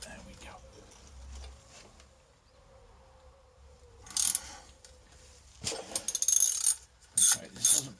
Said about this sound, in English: If I can just get me socket on it.